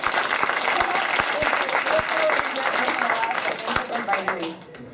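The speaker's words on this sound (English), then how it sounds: "is your applause from Germany" Applause heard over a Skype interview link as a steady wash of clapping lasting several seconds, fading toward the end, with a voice speaking over it.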